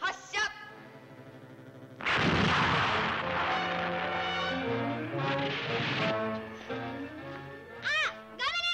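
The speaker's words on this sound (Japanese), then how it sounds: "物質破壊、四次元殺人光線発射。" A fourth-dimension death ray fires in a Showa-era Gamera kaiju film trailer, a loud sustained blast of roaring, crackling noise with warbling electronic tones, bracketed by short bursts of sound effects.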